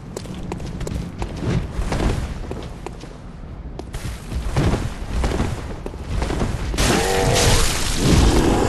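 Gunshots and booming blasts from a Bloodborne fight, a Molotov thrown in the same clash, cracking in several loud bursts over a dense, noisy game mix with no talk.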